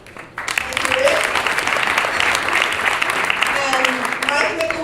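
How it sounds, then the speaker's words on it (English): Audience applause for startup pitches at an evening startup tech event, dense sustained clapping from a crowd that swells in after a brief pause and carries on steadily, with a voice faintly audible over it. "Let's give another round of applause for our pitches of tonight"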